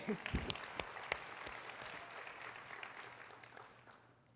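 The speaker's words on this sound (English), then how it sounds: "Let's give her a round of applause." An audience claps, a dense patter of applause that starts strong and gradually fades out over a few seconds.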